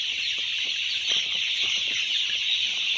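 Chickens on a poultry farm cluck in a dense, continuous crowd chatter under a steady high hiss of ventilation, no voices present.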